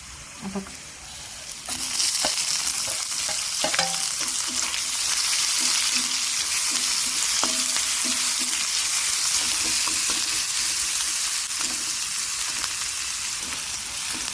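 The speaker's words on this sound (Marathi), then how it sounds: "याच्यामध्ये आपण कढीपत्ता घालूया" Curry leaves hit garlic frying in hot oil, the sizzle swelling sharply and then holding as a loud steady crackle, with scrapes of stirring and a brief word spoken early on.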